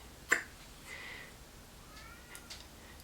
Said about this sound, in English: if you can hear Simba meowing, he's getting most upset